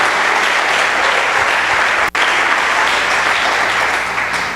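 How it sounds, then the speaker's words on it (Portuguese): A church congregation in a Portuguese-language service applauds loudly and steadily, a dense, continuous wash of clapping that breaks off for an instant midway, then resumes at full strength. "As palmas para Ele bem fortes."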